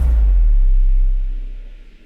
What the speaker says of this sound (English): Cinematic drum impact.